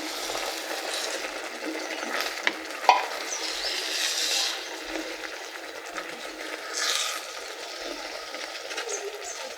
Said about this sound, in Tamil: கொஞ்சம் கிளறி விட்டுக்கலாம்